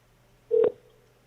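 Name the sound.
telephone tones of a voicemail recording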